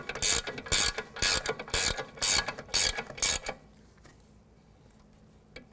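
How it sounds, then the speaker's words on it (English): A floor jack lowering a 2008-2012 Jeep Liberty gives a run of about seven loud, evenly spaced ratcheting clicks, then near silence with one faint knock at the end. "So I'm going to use a floor jack to bring it down and torque everything."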